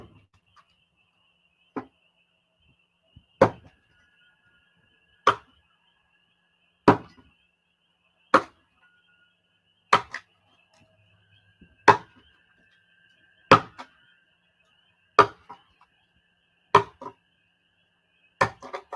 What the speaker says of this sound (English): back to the chopping.